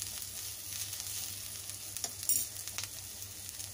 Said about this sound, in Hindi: दो मिनट धीमी आंच पर तलने के बाद में ये देखिए कि हमारे प्याज अलग अलग हो गए हैं